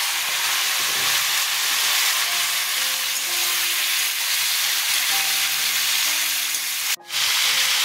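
Raw mango pieces, ginger and chilli sizzle loudly in hot oil, a dense, constant hiss that briefly dips near the end.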